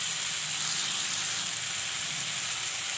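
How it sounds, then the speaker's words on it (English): Fried cauliflower goes into a pan of browned spicy masala for phool gobhi jhal, setting off a loud, steady hiss of sizzling oil that runs unbroken for three seconds with no voices. "Put in the fried cauliflower."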